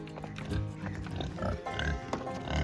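Pigs grunting at feeding time on an Alaska homestead, a close series of low, snuffling grunts and oinks in irregular bursts over a few seconds.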